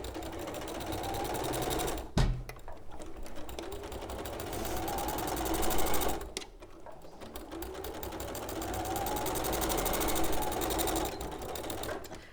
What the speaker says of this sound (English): we're just going to stitch along there